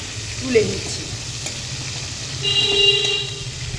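Shrimp frying lightly in oil in a pan for potol chingri, a steady close sizzle with brief stirring scrapes as the pieces are turned and lifted out, and a faint thin tone in the background.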